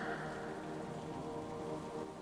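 Gentle rain pours steadily, an unbroken hiss of drops pattering on surfaces outdoors during a peaceful walk, with no voices and no change in intensity.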